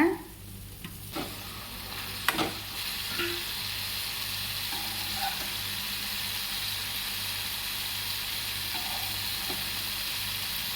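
Mushrooms frying in a pan for a pepper curry, a steady soft sizzle with a few clinks and scrapes of stirring near the start.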